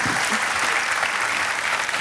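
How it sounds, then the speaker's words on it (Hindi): Dense, steady applause from a studio audience on a televised quiz show, loud and close, sustained without a break. "तालियां बजती रहें इनके लिए।"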